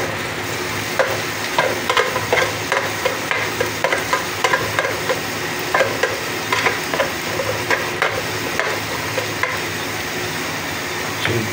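Tilapia fish steak frying in a pan gives a steady, fairly loud sizzle, with regular light taps from stirring or turning throughout.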